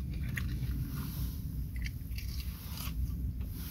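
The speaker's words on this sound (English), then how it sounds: "And then you bite into it, it's really cheesy." Close, soft bites and chewing on a cheesy White Castle Smokey Joe slider, with faint crunchy and moist mouth noises over a low background, and no one talking.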